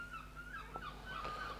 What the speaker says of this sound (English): You hear those seagulls, man?